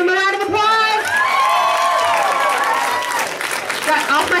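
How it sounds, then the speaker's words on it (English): A live comedy show audience breaks into sustained applause with some cheering, a dense wash of clapping from a crowded room that holds steady for several seconds with voices mixed in. "Give him a round of applause!"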